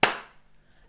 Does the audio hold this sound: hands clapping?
yes